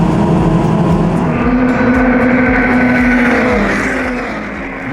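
Formula Ford 1600 single-seater race cars rev hard together at the start of the Walter Hayes Trophy at Silverstone, a loud continuous engine roar with rising pitches that eases slightly near the end.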